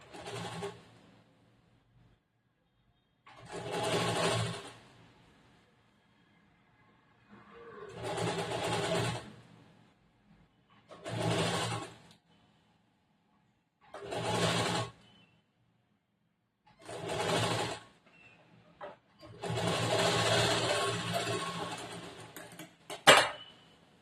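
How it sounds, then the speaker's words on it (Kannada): An electric sewing machine stitches a lined blouse in seven separate bursts of whirring, separated by short quiet pauses, the final run longer and ending in a sharp click. "ಸ್ವಲ್ಪನೇ ಜೋಡಿಸ್ಕೊಂಡು ಸ್ಟಿಚ್ ಮಾಡಬೇಕು."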